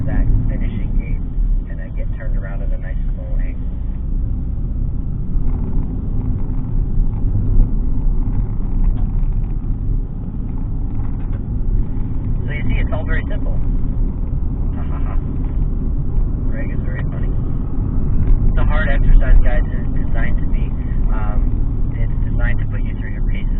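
A car working through a slalom course, its engine rumbling steadily as it accelerates and brakes, with a voice talking over the drive throughout.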